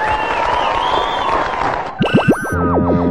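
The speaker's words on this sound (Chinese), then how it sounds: "掌声欢迎他。" Studio audience at a Taiwanese TV variety-show beauty contest applauds to welcome a contestant about to sing while accompanying themselves; about two seconds of steady clapping and crowd noise, then instrumental notes take over.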